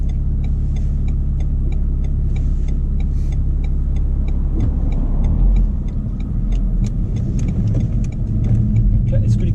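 A Renault Megane 4 RS with a 1.8-litre 280 hp engine revving steadily under load on the road, a continuous close cabin rumble with ticking, while people talk over it.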